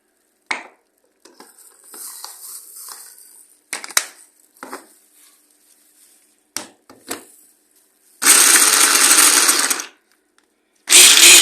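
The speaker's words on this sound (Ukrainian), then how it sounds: "Для цього перемилю в блендері цибульку, часничок і зелень" Scattered clatters and handling noises, then a blender whirs loudly in two short bursts as it chops onion, garlic and herbs.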